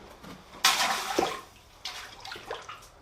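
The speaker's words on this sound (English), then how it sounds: "I'm going to quench it real quick in some water" A hot forged steel poinsettia napkin ring is dipped briefly into water, giving a sudden close hissing splash that fades, then a few softer bubbling sputters.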